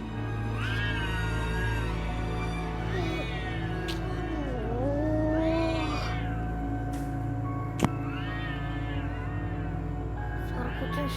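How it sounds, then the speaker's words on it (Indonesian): A cat meows at night near a new house, with several drawn-out, rising and falling cries over a steady low hum and one sharp click. "Suara kucing siapa sih? Berisik banget malam gini."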